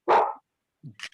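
A dog barks once loudly and close, then gives a couple of softer yips and whimpers during an online meeting, with nothing else around it.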